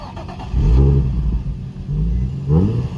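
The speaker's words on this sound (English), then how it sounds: "we got a warm start on the 350Z" Nissan 350Z with a stock exhaust, already warm, starting up and revving, the engine climbing loudly twice, around 0.6 and 2.5 seconds, and settling into a steady rumbling idle between the blips, heard up close.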